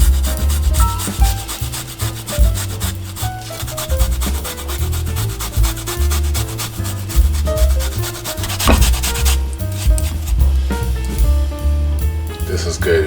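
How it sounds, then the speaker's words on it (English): Fresh ginger is grated against a kitchen grater in rapid, rhythmic rasping strokes, close and clear, with repeated scraping pulses over a steady background. "Now we're going to grate some ginger."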